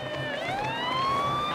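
An ambulance siren wails continuously with a smooth rising and falling pitch as it arrives at a street protest, loud and steady, with no speech over it.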